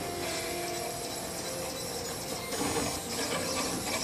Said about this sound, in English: the CraftBot 3D printer is now printing both caps